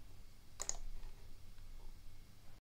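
A computer mouse clicks a couple of times in quick succession, close and crisp, while setting up a service in an SAP Fiori web app. The clicks sit over a quiet room hum, and no voices are heard.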